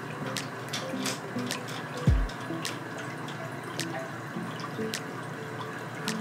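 Pilsner wort dripping and trickling through brewing sieves to aerate it and aid filtration, a steady faint patter of small drips with one brief low gurgle partway through, no talking.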